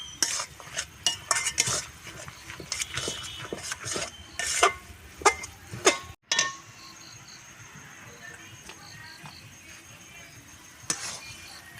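Katla fish head curry with pea greens and rice flour being stirred in a pot, with brisk clinking and scraping of a spoon for several seconds, then a quieter stretch of faint bubbling and occasional taps.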